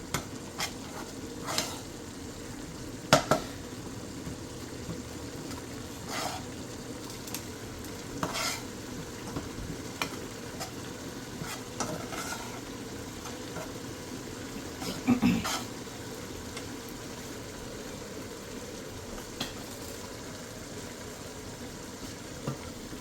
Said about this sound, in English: Allow this to fry really well